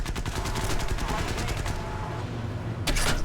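Rapid machine-gun bursts from the aircraft gunners of an H6K4 flying boat in the video game War Thunder, a dense rattling stream that thins midway, then a fresh loud burst near the end over steady engine drone.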